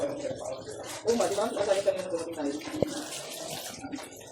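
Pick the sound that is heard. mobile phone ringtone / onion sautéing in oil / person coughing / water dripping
water dripping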